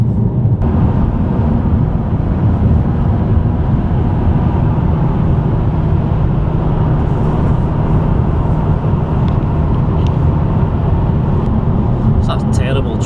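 A McLaren 570S supercar is driven, its engine and road noise forming a steady, loud low rumble from inside the cabin for the whole stretch, with a few brief clicks near the end.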